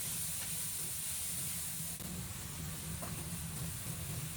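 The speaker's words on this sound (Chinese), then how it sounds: "大火快速煸炒" Soybean sprouts stir-fried fast over high heat with salt, sugar and soy sauce, giving a steady loud hiss and sizzle throughout with faint scraping knocks of the spatula.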